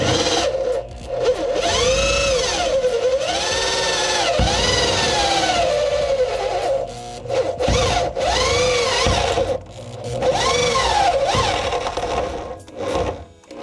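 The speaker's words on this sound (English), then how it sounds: "Trying to avoid fucking up my only step drill here." A step drill bores through metal lubricated with WD-40 during a DIY car diffuser build for a Mazda Miata, loud grinding bursts with rising and falling squeals, pausing briefly between passes.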